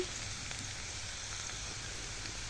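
Onion frying in a pan: a soft, steady sizzling hiss, faint and even, with no voices over it.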